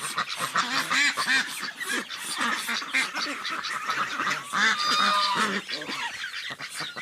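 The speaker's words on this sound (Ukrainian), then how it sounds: "моя качечка, індокачка і індокачер" Domestic ducks and Muscovy ducks quacking and calling loudly at close range on a small village farmstead, a dense, continuous chorus of overlapping honking quacks with no talk.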